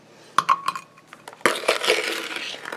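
A metal spoon scraping cooked apples out of a pan, a few sharp clinks and knocks followed by a denser stretch of scraping and rattling, close and fairly loud.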